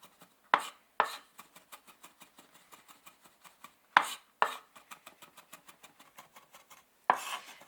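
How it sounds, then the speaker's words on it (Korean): A knife finely minces garlic on a cutting board while kanpunggi is made for a Chinese cooking exam, giving a rapid, even train of close, crisp taps with a few louder chops mixed in. "마늘은 곱게 다져줍니다."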